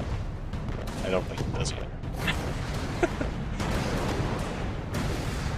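Explosions in the video game Alice: Madness Returns burst in a rapid series of booms and crackles over game music, with a person talking briefly amid them.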